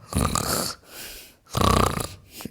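A man imitates a dog's snoring with two long, rattling inhaled snorts separated by a softer breathy exhale, close and loud.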